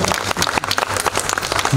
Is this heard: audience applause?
yes